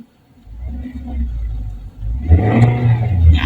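A Toyota Corolla Altis 1.8G engine idles low, then revs up as the accelerator is pressed, a rising mid-pitched rumble heard close at the end, with a voice talking faintly at the start.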